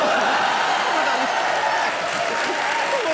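A studio audience at a Comedy Nights With Kapil comedy show breaks into loud, sustained applause, dense clapping that fills the room evenly from start to finish.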